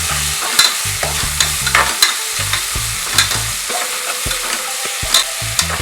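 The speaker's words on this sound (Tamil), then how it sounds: "வெங்காயம் நல்லா வதக்கணும்" Onions stirred and sautéed in a pan for mushroom biryani: a steady sizzle of frying under repeated scraping, knocking strokes of a spoon against the vessel, close and fairly loud, with no talk.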